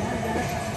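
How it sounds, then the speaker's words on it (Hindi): A train at Taraganj station on the Prayagraj rail line gives a brief, steady low rumble of wheels and carriages, with no voices over it. "रुक गई गाड़ी"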